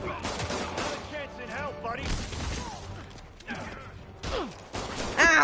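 Bursts of gunfire and mechanical clatter from a Spider-Man video game, with loud intermittent shots and impacts, while a player talks over the action.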